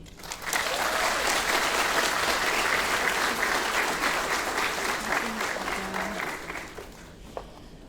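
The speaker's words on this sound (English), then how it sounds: "Let's give Ms. Mecca another round of applause" Sustained applause from a graduation ceremony audience, a dense wash of clapping that starts abruptly and holds steady for several seconds before tapering slightly, with a few faint voices underneath.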